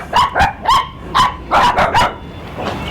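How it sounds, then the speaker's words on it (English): Several dogs at a fishing port bark in a quick, close series of sharp woofs and yips, loud and near, then fade into a faint whimper. "There's these dogs and there's these little ones. I just woke them up"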